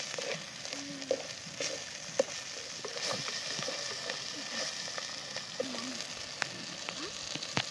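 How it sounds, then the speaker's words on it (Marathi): A ground masala paste for sukka mutton fries on a low flame, giving a soft, steady, close sizzle scattered with small pops and light stirring clicks. "आधी व्हायचं मंद जाळावंच मसाला तळून घ्यायचा"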